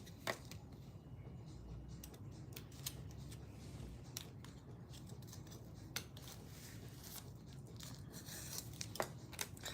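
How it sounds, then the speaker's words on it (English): Scissors snip out the centre of a glittery craft shape, producing a series of short, close crisp cuts and paper rustles at a quiet level with no speech. "I'm going to go ahead and cut out the middle."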